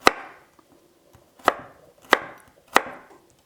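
A knife cuts kohlrabi into thin strips on a board, making four sharp, loud chops spaced unevenly about half a second to a second and a half apart, each ringing briefly, with no talk.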